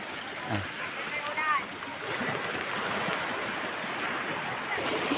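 Sea water surges and splashes against large rocks at Diguisit, Baler, Aurora, in a steady, loud wash, with a brief tonal sound early on.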